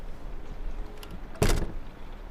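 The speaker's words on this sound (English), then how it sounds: "you do hear the sound of a door open and close, footsteps, and another different door open" A door in a quiet interior lands with a single heavy thump midway through. Faint scuffs and creaks come before it.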